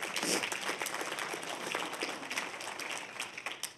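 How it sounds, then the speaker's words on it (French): Congregation applauding during a Christmas sermon, a soft, steady patter of many hands clapping at a distance with little else heard, fading slightly toward the end. "On peut applaudir."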